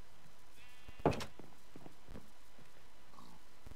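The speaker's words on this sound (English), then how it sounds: "He's a big goat." A goat in the Minecraft video game gives a single short bleat over a quiet, steady background, with nothing else standing out.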